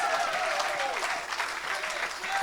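A church congregation at an evangelical worship service claps together in a sustained, dense burst of applause, with voices and cheering mixed in throughout.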